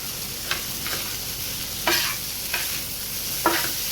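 Dried shrimp frying on a tawa, with a soft steady sizzle broken by several scraping stirs of a spatula spaced about a second apart, close and alone.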